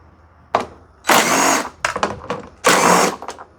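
A power tool on a Hyundai Santa Fe headlight assembly, spinning out two 10mm bolts. It gives a short blip, then two loud sustained whirring bursts, with stuttering pulses in between.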